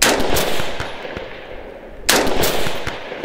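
A rifle with an ACOG scope is fired from a bipod at a shooting range, with two loud, sharp shots about two seconds apart, each followed by a long echoing rumble across the range.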